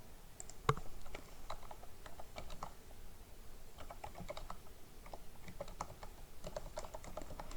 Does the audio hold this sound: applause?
no